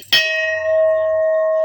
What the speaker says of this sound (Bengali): আমরা একটা ঘন্টাটা বাজায় ফেলাই